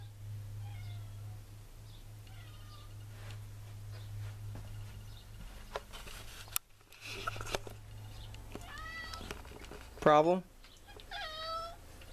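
A house cat meows several times in short, close cries scattered over a quiet room, with one louder, longer yowl late on, while a person speaks briefly in between.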